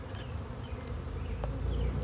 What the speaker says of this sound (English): We're gonna shake the rest of these bees into the hive.